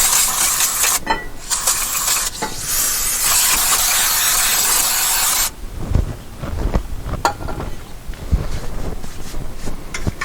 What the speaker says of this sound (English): Now we'll hose all this off with some brake cleaner.